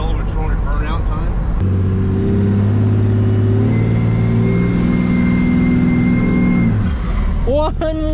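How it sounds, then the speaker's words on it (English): A Mercedes W100 roars through a burnout, its engine revving hard and holding a steady high drone before dropping away, loud and close, with people talking and exclaiming over it at the start and end. "Is it celebratory burnout time?"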